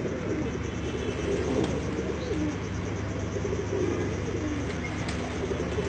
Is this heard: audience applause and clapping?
no